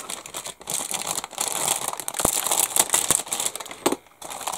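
Plastic bag around the sprues of a 1/35 scale Miniart model kit crinkles and rustles steadily and up close, with brief pauses and no talking.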